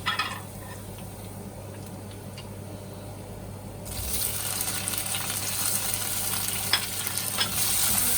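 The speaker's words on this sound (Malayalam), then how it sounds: "പച്ചമുളക് നന്നായിട്ടൊന്ന് മൂത്ത് വരുമ്പോഴത്തേന് നമ്മൾ തക്കാളിയും കൂടി ഇട്ട് കൊടുക്കാം" Green chilies fry in hot oil for a Kerala prawn curry in a quiet, even sizzle. Tomatoes then drop into the pan midway and the hiss swells louder and brighter, with stirring and crackling close by and no voices.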